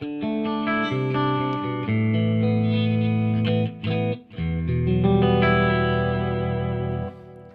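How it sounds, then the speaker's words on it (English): Clean electric guitar chords on the neck pickup with a bright, glassy, scooped tone and a touch of chorus shimmer, played alone with a short break midway. "that'll give you more of sort of a crystally kind of scooped clean sound"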